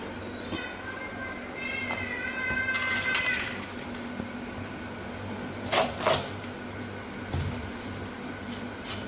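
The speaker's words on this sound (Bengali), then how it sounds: "ওই তো মেয়ে কান্না করতে আছে" A young girl cries in a home kitchen while a pumpkin fry is cooked, her wavering wails rising briefly and then fading. Scattered knocks and clatter follow against a low, steady background hum.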